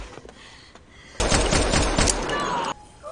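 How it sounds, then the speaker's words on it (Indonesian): Sudden burst of rapid gunfire in a movie shootout, a dense volley lasting about a second and a half, loud and sharp against quieter background sound before and after. "Kate yang telah tiba di sana segera menembak Shinjo dan rekan-rekannya"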